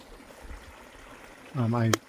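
A creek flowing past a meadow campground in the Southern Sierras near Kernville, California, a soft steady babble in the background before a voice begins speaking near the end.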